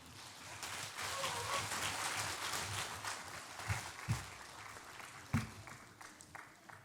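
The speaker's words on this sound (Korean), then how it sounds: "나오실 때 큰 박수로 맞이하겠습니다." Church congregation at a Sunday worship service applauding as the pastor comes forward; broad, steady applause that thins toward the end, with a few louder thumps and knocks standing out near the close.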